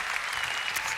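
Dense crowd applause fills the space, loud and continuous, following a Just Dance 2017 dance performance at the Ubisoft E3 2016 press conference.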